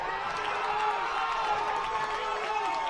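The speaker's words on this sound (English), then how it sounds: "And the crowd here is going crazy." Spanish Fork ballpark crowd at a high school baseball game against Corner Canyon, a steady wall of cheering and shouting voices that holds at an even level throughout, with excited individual calls rising out of the din.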